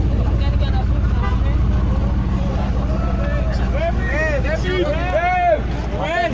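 Supercar engines revving on a street in Athens during a Gumball 3000 rally stop, a low steady rumble with rising and falling rev sweeps toward the end, mixed with crowd chatter and nearby talk.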